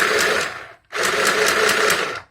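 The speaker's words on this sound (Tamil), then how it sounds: "நான் ப்ரெஸ் பண்ணி காமிக்கிறேன் எப்படி ஆப்ரேட் ஆகுதுன்னு பாருங்கள்" A mini sewing machine run from a foot pedal whirs in two bursts, a short run, a brief stop, then a longer steady buzz with a fast stitching pulse, close and clear.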